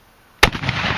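A single 12 gauge shotgun blast goes off nearby, a sharp loud crack followed by a lingering rumbling echo, with no talking.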